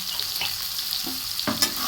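Onion frying in oil in a pan with a pinch of salt and cloves, a steady close sizzle with a few scraping stirs near the end, no voices.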